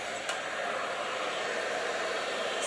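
A handheld blow dryer roars steadily and close while a brush smooths blunt-cut hair during a blow-dry styling, its hiss continuous and even with no talking.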